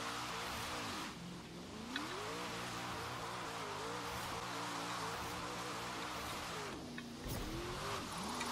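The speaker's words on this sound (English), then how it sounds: "I'm gonna do a little drift here." A car drifts in the Forza Horizon 3 racing game, its engine droning steadily while tires squeal, with the pitch swooping as the car slides through the turns.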